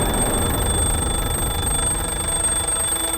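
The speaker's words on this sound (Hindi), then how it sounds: "बेड साइड टेबल पर रखा हुआ वो अलार्म क्लॉक।" A bedside alarm clock ringing loudly and steadily throughout, with a continuous buzzing ring and sustained high tones, alone with no voices.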